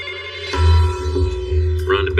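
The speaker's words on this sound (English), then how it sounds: "The phone rang." A telephone bell rings in a steady, repeating tone, close and fairly loud, with other tonal sounds layered around it and no clear speech.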